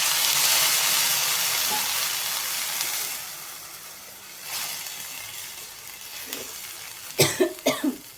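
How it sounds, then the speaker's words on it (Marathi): Water poured into methi dal (fenugreek lentils) cooking in a hot pot makes a loud hiss and bubble that gradually fades, followed near the end by a few close coughs. "आणि पाणी घालून घेऊ."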